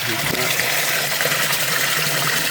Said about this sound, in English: So I just turned my pool on. I just set up the filter again, and I get the water filtering.